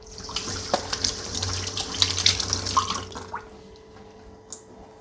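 Hands are washed under a running tap, with splashing water, drips and a few small knocks for about three seconds before the flow stops, leaving a quiet room with one last faint drip.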